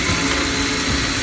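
A Jeep WJ engine idling after power steering line and oil sender work, a steady loud mechanical drone with even low rumble, close by and with no voices.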